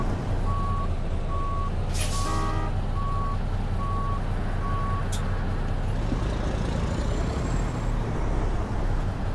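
A truck reverses near a trailer, its backup alarm beeping at a steady rhythm over a loud, constant diesel engine rumble, with a short hiss of air release partway through.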